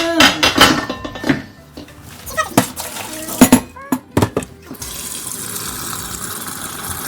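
Cold tap water runs into a sink as cooked Andong braised chicken is rinsed, with pots and utensils clattering in sharp knocks before a steady stream of flowing water takes over.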